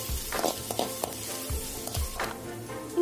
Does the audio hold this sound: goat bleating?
no